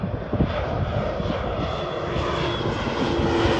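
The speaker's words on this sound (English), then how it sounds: "there's gonna be an airplane flying in the background for a minute" Propeller airplane flying over a freshly planted rice field, a steady droning engine roar that holds at moderate distance throughout, with no talk.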